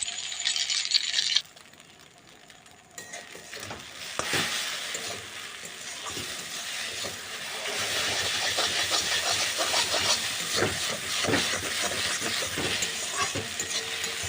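Maggi noodles fry with onion and green chili in a pan. After a short quieter stretch, a dense hissing sizzle builds and holds, broken by scattered clicks of a spatula against the pan, with no one speaking.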